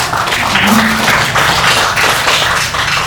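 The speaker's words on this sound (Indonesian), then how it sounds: "Oke, tepuk tangan sekali lagi dong." A seated audience at a panel discussion claps in a dense, steady burst of applause that stays loud for a few seconds.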